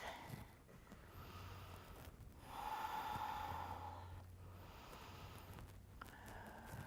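A slow, soft breath drawn during a yoga session, swelling in the middle of the stretch and fading again, faint and close against a quiet room with no talk.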